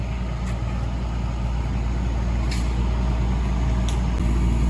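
A truck working to drag out an old 1970s Ford van with a 302 engine, a steady heavy engine drone and rumble with faint clanks and hisses, no talk.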